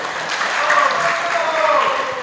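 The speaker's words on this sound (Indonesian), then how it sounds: "Tepuk tangan untuk Pak Sofyan." Audience applause for a speaker at a panel discussion event, a steady wash of clapping from a crowd lasting a couple of seconds at moderate loudness.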